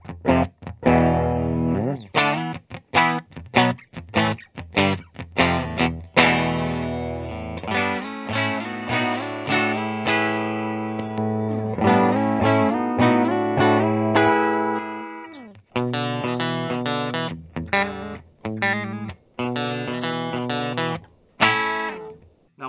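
Distorted electric guitar on a 1985 Fender Performer's bridge pickup plays picked notes and ringing chords in short phrases with brief pauses, bright and gritty, with no other instruments.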